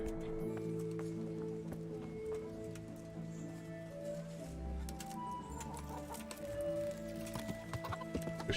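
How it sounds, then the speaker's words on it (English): Horse hooves clip-clop at a steady riding pace in the medieval game Kingdom Come Deliverance, From the Ashes expansion, with a brief whinny and faint background ambience, no talk. "let's take the horse down"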